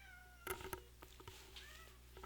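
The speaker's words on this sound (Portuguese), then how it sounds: "meu gato tá aqui implorando, tá com comida e tudo, tadinho" A hungry house cat begs for food with a few short, faint meows early on, followed by softer cries in a quiet room.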